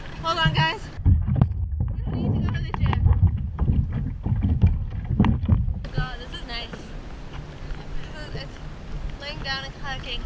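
Paddles splash and dip rhythmically in water close by, with wind buffeting the microphone and people talking over the strokes.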